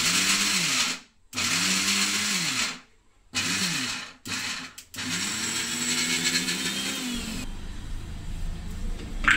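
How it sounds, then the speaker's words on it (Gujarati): Kitchen mixer grinder coarsely grinding peas, switched on and off in short pulses: a loud whirring motor that stops abruptly several times, then runs steadily and changes pitch near the end. "આ રીતનું ચાલુ બંધ કરી અને દરદરું પીસી લેવાનું।"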